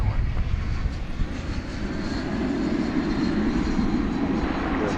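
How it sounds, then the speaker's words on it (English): An American Airlines Airbus A321 from Seattle rumbles at DFW at night, a steady low jet engine drone that stays moderately loud and constant for the whole stretch. "Here comes American Flight 757 from Seattle, which is operated by an Airbus A321."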